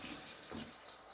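Water poured from a small glass into a frying pan holding onions, peppers and green fava beans being cooked into shakshuka, a steady hiss and splash held for about a second, close and fairly quiet.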